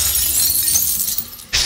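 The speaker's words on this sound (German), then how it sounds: "Wenn du Glas in der Küche brechen hörst" Glass shatters in a kitchen with a loud, bright crash that sprays and tinkles off over the following second, then a second sharp burst of breaking glass at the very end.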